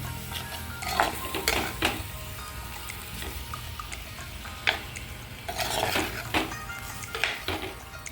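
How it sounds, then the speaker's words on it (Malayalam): A spoon stirs prawn curry with coconut milk in a pan, giving soft wet scraping and clinking strokes in irregular bursts over a low bubbling background, close and without speech. "നന്നായിട്ടൊന്ന് ഇളക്കി കൊടുത്തതിന് ശേഷം സ്ലോ ഫ്ലെയിമിലിട്ട് തന്നെ നമുക്കിതൊന്ന് അടച്ച് വെച്ച് ഒരു അഞ്ച് മിനിറ്റ് കുക്ക് ചെയ്യാം"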